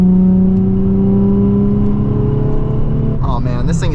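A manual-transmission car in traffic holds a steady engine drone while gathering speed, then a brief whooshing rise near the end, close and loud throughout.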